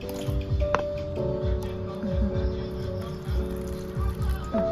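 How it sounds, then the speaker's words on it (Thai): Water is poured into the pot of a newly repotted caladium, giving soft splashing, trickling and dripping close by, with a faint tonal hum underneath. "ใส่น้ำลงไปนะคะ แล้ว เราจะ อบน้องไว้ประมาณหนึ่งเดือนนะคะ"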